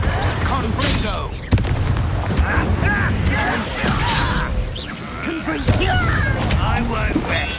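Confringo blasting spell cast in the Hogwarts Legacy video game on PS5, sharp explosive cracks at two points amid busy combat effects, whooshes and character voices throughout.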